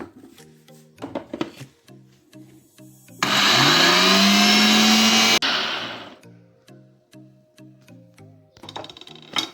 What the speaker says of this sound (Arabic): درت الدلاعه تاعي في الروبو تاع الجي، غادي نطحنه.